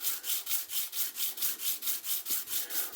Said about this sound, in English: it doesn't matter the orientation of the sandpaper. What matters is that I'm moving the scale in a consistent direction